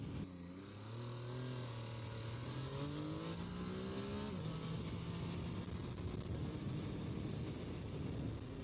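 A 2014 MV Agusta Brutale 800 motorcycle engine on the move: a steady mechanical whine rises through a few gear pulls and then holds at high revs, under rushing wind noise.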